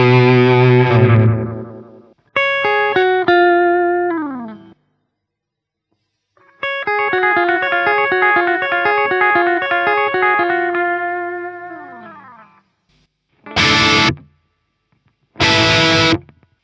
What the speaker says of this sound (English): But this also does meat and potatoes standard delay effects, like these.